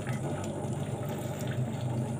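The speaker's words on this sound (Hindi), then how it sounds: "ऐसे पानी गिरेगा, पकौड़ी भर जाएगा, बंद हो जाएगा" An automatic pani puri vending machine dispenses a steady stream of water into a puri, making a brief, even splashing pour against a low machine hum.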